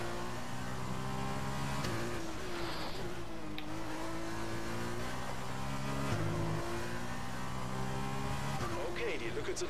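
A Formula 2 race car in a video game, on a Bahrain circuit, drones with a steady high engine note through gear changes and shifts in pitch, while someone talks throughout.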